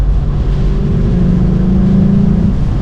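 A VW Up GTI engine runs with a steady, throaty low drone and a faint rising tone, continuous and fairly loud with no voices.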